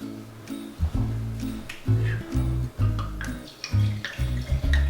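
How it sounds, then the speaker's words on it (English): Wine pours into a glass while halibut en papillote is being served: liquid glugs and splashes come in several uneven bursts, close and fairly loud, with no talking. "I'm going to pour a little glass."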